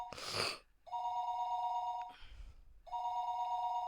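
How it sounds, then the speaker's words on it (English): A telephone bell rings in the video game Higurashi When They Cry, two long electronic trills separated by a short pause, clear and steady with no talking over them. "The sound of the phone ringing gets clearer and clearer."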